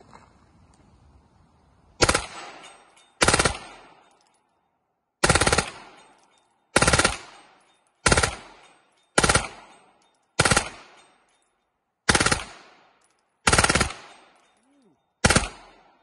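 A CZ Scorpion fires in full auto at an outdoor range, about ten loud, sharp cracking bursts spaced roughly a second or so apart, each ringing out briefly before the next.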